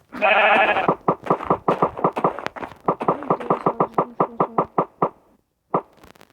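In Minecraft, a lamb caught on a fishing rod lets out one loud bleat, followed by a run of quick, evenly spaced plopping knocks that slow and fade out.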